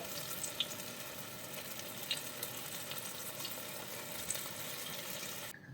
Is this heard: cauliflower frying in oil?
yes